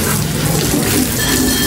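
Water sprayed onto a very dirty car during a wash, a steady close hiss of running, splashing water with no talk over it.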